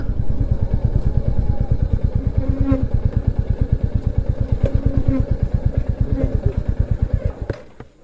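A motorcycle rolls into the two-wheeler parking at the Garden of Caves in Cherrapunji, Meghalaya, its engine thumping in a steady close-up idle for several seconds before shutting off.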